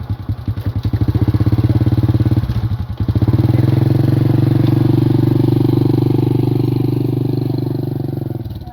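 A motorcycle runs along a narrow rural path in the countryside, its engine loud and near with a continuous throbbing drone, a brief dip around the third second, then steady running to the end.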